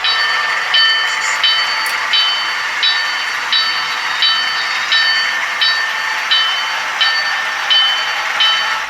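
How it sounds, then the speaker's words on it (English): A BLI Baldwin D&H RF-16 Shark model locomotive pulls its train up a mountain grade on a layout, giving a steady mechanical hiss with evenly spaced clicks repeating roughly every three-quarters of a second. "Now let's see how this locomotive and its train handles the mountain"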